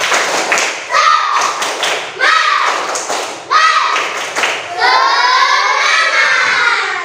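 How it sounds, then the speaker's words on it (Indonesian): Children in a classroom perform a rhythmic group clap with chanting, repeated bursts of claps in a patterned beat mixed with young voices shouting along, loud and close, ending in a sustained sung call. "Kalau masih semangat coba tepuk semangat."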